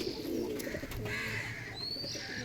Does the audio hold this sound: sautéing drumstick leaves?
no